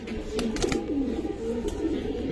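Giribaz pigeons coo steadily at close range, with a few quick bursts of wing flutter near the start laid over the low rolling calls.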